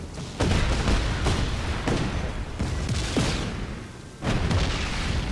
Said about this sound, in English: Is that enough explosions for you guys?